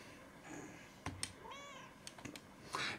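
A cat in the video game Another Sight gives one clear, fairly close meow, surrounded by soft clicks and brief game sound effects with no one talking.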